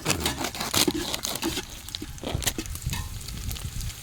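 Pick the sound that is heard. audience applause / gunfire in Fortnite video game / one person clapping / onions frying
onions frying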